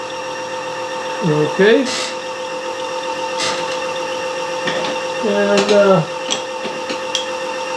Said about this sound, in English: The grinder's running.